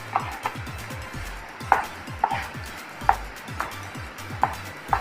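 A thick mixture of rice flour and milk stirred in a small pan for rice halwa, the spoon scraping and tapping the pan in a steady rhythm roughly every second, close and quiet, with no speech.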